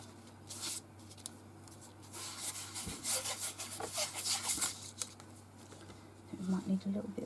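Hand rubbing glitter into a craft background: soft, close scratchy rubbing strokes in an irregular rhythm, with brief quiet pauses between passes.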